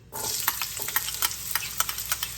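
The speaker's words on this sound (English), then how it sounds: "I'm now going to add one small onion that I've chopped." Chopped small onion hitting hot extra virgin olive oil in a pan, giving a steady close sizzle with crackling pops and faint stirring scrapes throughout, no talking.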